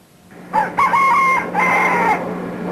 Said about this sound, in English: They are bright enough to cause cocks to crow in the dark of the Mexican night.